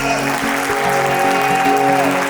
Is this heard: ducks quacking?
no